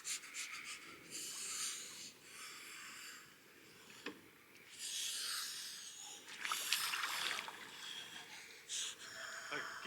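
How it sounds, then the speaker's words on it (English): Deep, effortful breathing during a breathing exercise at an Austrian retreat, with long hissing inhales and exhales repeating close to the microphone, rough and breathy. "by the time you get here, do deep breaths"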